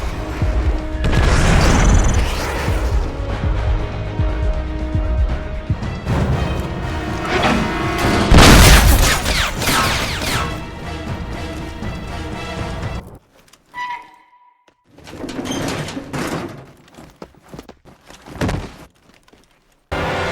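Airstrike explosions in the video game Army of Two: loud, heavy booming blasts near the start and again around the middle, then a short near-silent gap followed by quieter rumbling and scattered impacts.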